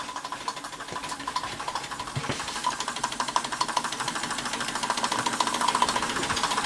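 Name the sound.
model steam engine powering accessories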